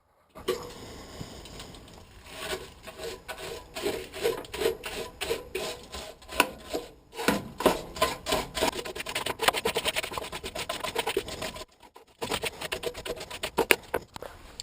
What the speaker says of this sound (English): I'm going to go ahead and clean off the top of that tank again